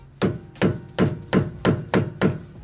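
Hammer tapping a rod to lift the nut lock on a car's driveshaft, six sharp metallic strikes at a steady rhythm, close and loud with no talking.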